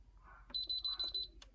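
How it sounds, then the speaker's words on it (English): A Brother 970 knitting machine gives a short run of high, evenly spaced electronic beeps to signal an upcoming pattern change near the shoulder shaping, heard close and clear over a low background hum. "It's beeped at you to tell you there's a change coming."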